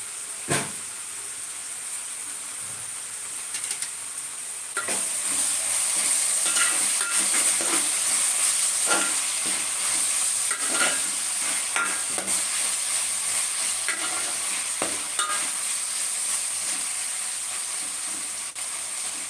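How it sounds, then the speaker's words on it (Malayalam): Onions and masala-coated chicken stirred in a pan for toddy-shop style chicken curry, a bright continuous sizzle that grows louder partway through, with intermittent scraping clicks of the spoon, close and without talk. "നമുക്ക് ഇതൊന്ന് ഇതുപോലെ ഒന്ന് ഇളക്കി കൊടുക്കണം"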